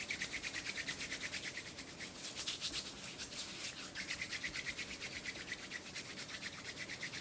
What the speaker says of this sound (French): Maintenant, on va venir se frotter les mains.